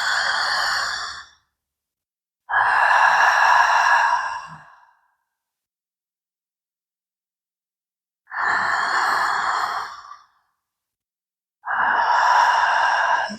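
Four slow, breathy breaths are drawn and released through a constricted throat, each a hoarse, airy rush lasting one to two seconds, separated by long silent pauses, close and clear with no talking.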